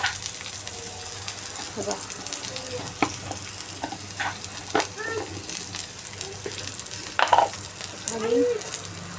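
Food sizzles and fries in a little oil on a home gas stove, with scraping stirs and clatter breaking through the steady hiss while someone speaks briefly.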